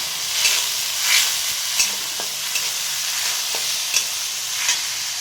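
Masala for a sprouted horse gram curry is stirred and fried in a pan, a steady loud sizzle with repeated scraping strokes of a spoon at a slow, uneven rhythm.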